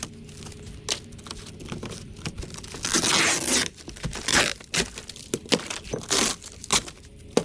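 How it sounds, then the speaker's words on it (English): Fiberglass decking is ripped off an old wooden boat. Close, harsh tearing and crunching bursts come in uneven pulls, with sharp cracks and a longer grinding rip in the middle. "We'll start by ripping off the fiberglass deck."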